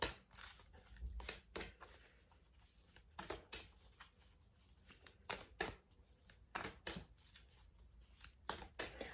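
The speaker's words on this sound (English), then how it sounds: "Let's have a quick little shuffle" A new deck of cards, just unwrapped from its paper, is shuffled in quiet repeated riffles and soft rustles, faint and close with no talk.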